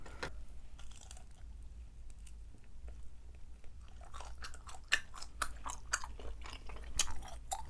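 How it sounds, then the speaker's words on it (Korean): Close, faint mouth sounds of someone biting into and chewing fried glass-noodle dumplings, with soft chewing at first and then a run of crisp crunches toward the end. "분만두튀김 한번 먹어볼까?"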